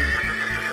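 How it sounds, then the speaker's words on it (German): A horse gives a short, loud whinny close by, a brief quavering call. "das ist ein Pferd."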